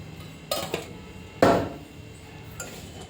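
A spoon knocks and scrapes against a pot while a thick, sweet milk mixture thickened with a little ghee is stirred, giving three separate clinks with the middle one loudest and quiet gaps between them.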